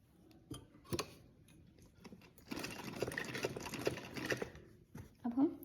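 A sewing machine runs in short bursts of rapid, rattling stitching on a frock suit seam, with a longer run in the middle and someone talking over it.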